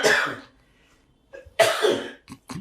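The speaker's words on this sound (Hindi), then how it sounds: "फ्रीडम फाइटर को खांसी हो गई।" A person coughs in a short burst, then pauses and coughs again harder, trailing off into a couple of smaller coughs, close and fairly loud.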